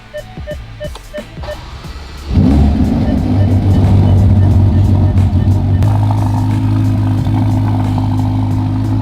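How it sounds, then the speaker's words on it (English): A Ferrari Roma starting up, heard from inside the cockpit: a few short chimes, then the engine fires loudly and settles into a steady, deep idle that stays close and strong to the end. "So it's my first time in the cockpit of Ferrari Roma and I'm gonna experience the startup"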